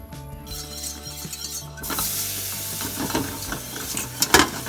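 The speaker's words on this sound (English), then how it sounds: "We're going to whisk this until the sauce thickens." Scalded milk being whisked into flour for a bechamel sauce in a pan, with a quiet low start giving way to brisk, continuous whisking and scraping against the pan, loud and close with no talk.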